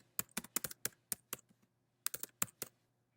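Computer keyboard keys clicking crisply and close up while an email is typed, in two quick bursts of keystrokes separated by a short pause, with no talking.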